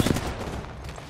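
Gunfire in the video game Apex Legends, a short dense burst of rapid shots at the start fading into a noisy, rumbling tail over about a second.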